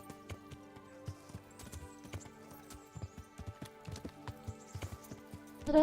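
Hooves of a video game horse clatter in an even, repeating trot, near and clear, over a quiet musical backdrop, ending with a sudden louder burst.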